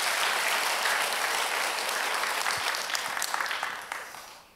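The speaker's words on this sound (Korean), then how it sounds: "여러분 다시 한번 박수 한번 해주세요." A church congregation at an early-morning service claps together in dense, sustained applause that gradually fades out over a few seconds.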